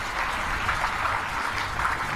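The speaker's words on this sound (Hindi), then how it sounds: "तुम ताली बजा रहे हो।" Steady, dense applause from a crowd gathered for a Hindu religious discourse on Thakur ji and Jagannath, holding at an even level throughout with no voices over it.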